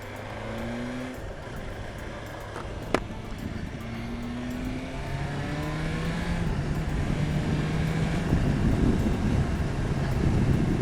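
A 2020 BMW S1000XR motorcycle engine drones while riding in fifth gear at about 57 mph, its tone sliding upward as it pulls, with rising wind rush building toward the end.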